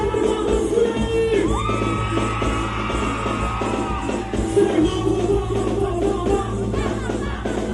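A large crowd of children at an outdoor Christmas parade yells and whoops in a dense, continuous roar, with festive music and a few bangs mixed into the noise.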